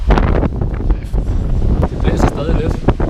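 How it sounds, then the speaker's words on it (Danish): Gusty wind from a super typhoon in Taipei buffets the microphone in loud, uneven bursts, with a voice talking underneath. "Det blæser stadig lidt, men ikke fuldstændig sindssygt meget, som man kunne forvente med en super tyfon."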